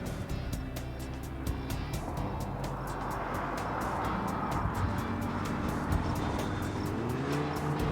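Volkswagen GTI with a DSG gearbox on a race track, its engine and road noise a steady broad roar through heavy braking into corners, with a rising whine near the end.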